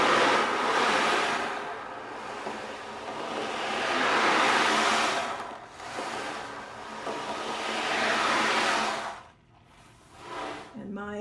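Slow swells of rushing, hissing sound rise and fall like surf washing in and out. Three long waves, loud and close, imitated by rolling beads.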